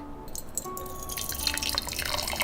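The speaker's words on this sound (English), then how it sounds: "First, I will use the hot water to warm the cup." Hot water poured into a tea cup to warm it before brewing smoked black tea: a close, brief trickle of small drips and splashes lasting a couple of seconds, with a soft tonal hum beneath.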